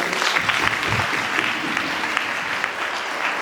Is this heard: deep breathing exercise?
no